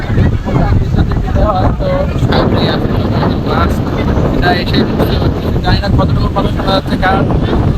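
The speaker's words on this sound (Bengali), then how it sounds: "এখানে কি পরিমাণ বাতাস হয়" Strong wind blows across a sandy tourist spot, a loud, steady roar of buffeting against the microphone that lasts the whole stretch, with someone talking over it.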